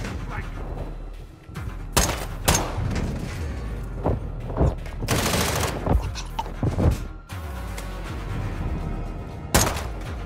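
Gunfire in Call of Duty: Modern Warfare II during a ship boarding mission, with loud bursts and single shots cracking out at close range in irregular clusters, booming impacts between them, and voices shouting over the shooting.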